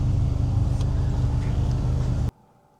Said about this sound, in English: It's still a quite good exhaust sound